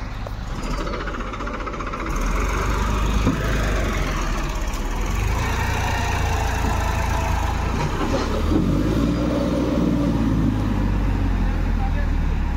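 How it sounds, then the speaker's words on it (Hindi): A tractor engine idles with a low, steady rumble out in the fields, holding close and constant while someone talks over it. "ट्रैक्टरटा आछी"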